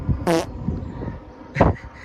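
The faulty, finicky horn of a 1963 Volkswagen gives two short, muffled honks about a second apart, sounding flat and weak against a low background rumble.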